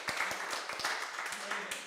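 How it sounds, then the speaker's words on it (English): A live workshop audience applauding, a brief burst of steady clapping from a room of people with a voice speaking over it. "Give him a round of applause."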